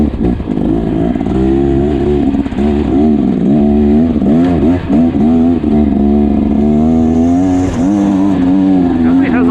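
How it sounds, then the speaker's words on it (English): A 2024 Beta Xtrainer 300 dirt bike engine while riding a trail loop after rain, loud and close, its pitch rising and falling with throttle changes; someone talks over it. "right now I'm riding the Xtrainer"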